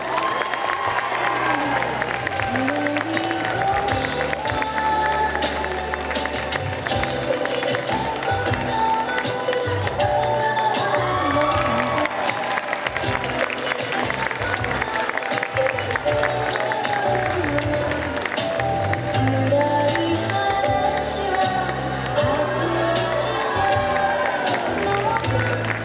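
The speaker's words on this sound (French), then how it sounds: "un tonnerre d'applaudissements, s'il vous plaît" A convention crowd applauds and cheers a young Anya Forger cosplayer from Spy x Family at the Mulhouse Japan Manga Wave cosplay parade. The clapping and cheers are sustained and blend with loud, steady music throughout.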